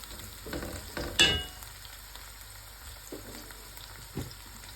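Spices with ginger, garlic and onion sautéing in a home kitchen pan, a soft background sizzle broken by a few sharp scraping stirs and clinks, without talk.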